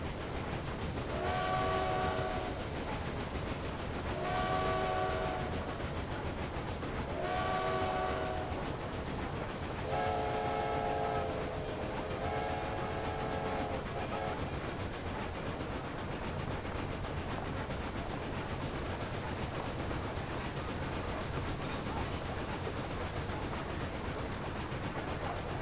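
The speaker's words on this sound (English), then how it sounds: "So that cargo train with all its heavy load is still outrunning my express" A heavy cargo train in the video game Railway Empire 2 rumbles steadily along while its horn sounds in a series of repeated blasts, then fades into continuous running noise.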